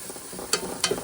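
Seafood chowder ingredients being stirred in a pot, two sharp scraping knocks of a utensil against the pot over a soft low bubbling simmer, close and brief.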